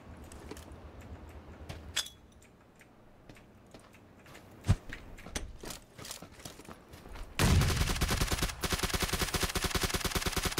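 Gunfire in PlayerUnknown's Battlegrounds: scattered sharp single shots, some near and some distant, then a dense rapid burst of automatic fire in the final few seconds.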